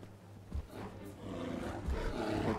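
A bear roars in the VR version of Skyrim, a low, growling bellow that comes in rough, rising bursts and sounds moderately close.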